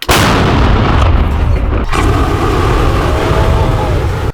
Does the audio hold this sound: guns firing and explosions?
yes